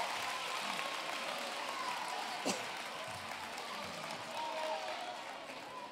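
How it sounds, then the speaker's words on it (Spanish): An audience at a narrative awards ceremony applauds as a winner is announced, a steady, fairly faint wash of clapping, with a brief louder knock partway through and a voice speaking over it. "Y ahora sí que podéis aplaudir"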